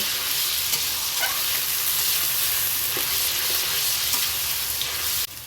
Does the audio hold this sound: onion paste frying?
yes